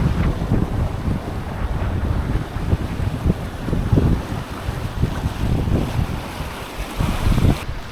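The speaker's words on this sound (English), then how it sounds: "We've got wind right on our quarter, on our starboard quarter." Strong wind buffets a sailing yacht at sea off Turkey's south coast, a loud continuous rumbling gust noise with surging swells and the wash of waves, no voices.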